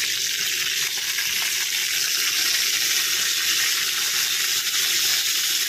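Cumin seeds sizzle in hot oil in a kadai with a steady, dense crackling hiss that stays close and even throughout, no voices over it.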